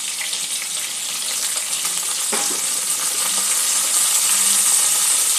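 Chopped tomato drops into hot oil in a pan being used for a katla fish curry, setting off a loud, bright, continuous sizzle close by. A brief thump marks the moment it lands, and the sizzle keeps building afterward.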